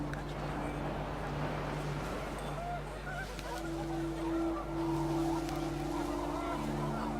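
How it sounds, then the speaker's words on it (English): Panicked geese honk in the video game What Remains of Edith Finch as the wind picks up. The calls are moderately faint and mixed with a steady low wind and tonal background sound. "The wind picked up and panicked geese appeared and quickly went."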